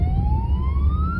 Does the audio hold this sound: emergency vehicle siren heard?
yes